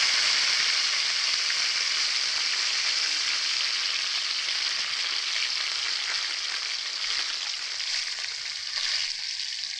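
Chopped tomatoes fry with cloves and cinnamon in a hot pan, a steady, close sizzle that holds evenly throughout with no voices.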